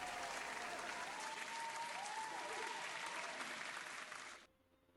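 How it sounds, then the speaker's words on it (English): Applause from an eco-luxury jewelry event audience, a dense, steady wash of many hands clapping that holds loud for over four seconds, then cuts off abruptly into near quiet. "I should definitely give all ourselves a round of applause."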